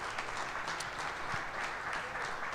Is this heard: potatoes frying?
no